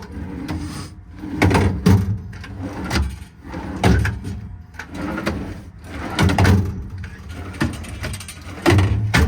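A half set of granite twist-and-lock drawers on a 2008 Ford F750 mechanics truck being opened and shut, giving repeated close metallic clunks, latch clicks and sliding rattles at irregular intervals.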